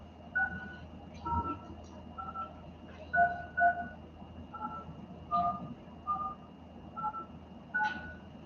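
A phone is dialed by keypad, a string of about a dozen separate DTMF beeps in an uneven rhythm, each one clear and close, over a low background hum.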